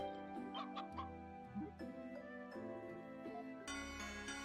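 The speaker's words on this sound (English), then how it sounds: "Chickens." Chickens cluck in short bursts over a continuous background melody in the video game Ys: Memories in Celceta; the clucks are soft and somewhat masked by the music.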